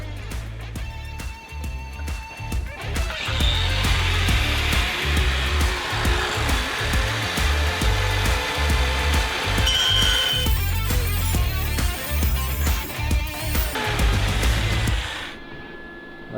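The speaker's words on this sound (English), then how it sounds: "I'm about to take this big grinder, and I'm about to cut my notches there." A big angle grinder cuts notches in metal, running loudly and continuously at close range with a harsh, fluctuating whine and rhythmic pulsing as it bites, then stops abruptly.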